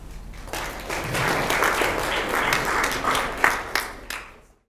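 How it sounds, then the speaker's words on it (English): An audience at a science and engineering fair seminar claps for a speaker being introduced, applause swelling up, holding steady, then thinning to a few last claps and fading out. "please give her a hand of applause"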